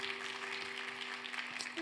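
Soft, distant applause from a church youth service congregation blessing a couple, a steady diffuse patter under a faint hum.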